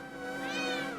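A single meow from a cat character in The Legend of Zelda: A Link to the Past, short and tonal with a rising, bending pitch, close and alone.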